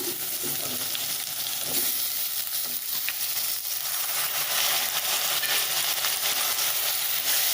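Tomatoes go into onions already frying in a pan, giving a continuous loud sizzle with scattered clinks and stirring scrapes, no talking.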